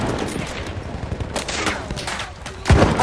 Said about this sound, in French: Attention, mitrailleuse!